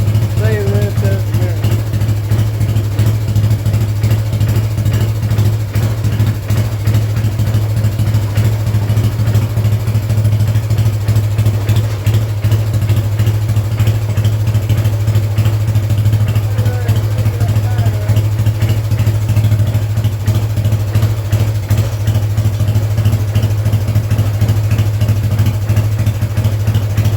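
Old six-wheel dumper engine running and moving, a steady loud low-pitched idle throb with rapid rhythmic pulsing that continues unbroken throughout.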